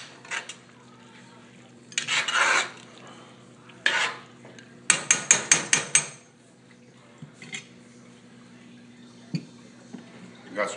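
Pots and utensils clatter while smothered rabbit is plated, with a quick run of six sharp metallic knocks and a few scrapes spaced out between pauses, close by and with a voice speaking now and then.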